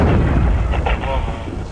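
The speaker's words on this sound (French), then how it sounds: "C'est des arrivées de RPG-7 ça." Incoming RPG-7 rounds land in a combat zone, a heavy, rumbling boom that fills the short stretch, loud and somewhat distant, with voices faintly mixed in beneath the blast.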